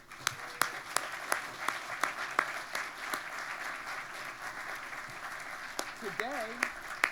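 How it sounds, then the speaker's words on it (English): An audience claps in a steady, scattered round of applause for the Grand Princess Orchestra, with a brief voice heard near the end. "How about a nice round of applause for them?"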